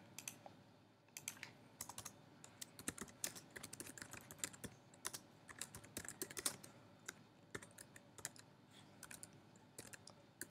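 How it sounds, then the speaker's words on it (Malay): Computer keyboard in use while editing in Photoshop, with steady close clicking of keys and the spacebar pressed and held, an irregular stream of crisp taps. "Saya tekan spacebar."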